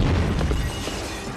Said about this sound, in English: Needless car explosion in 3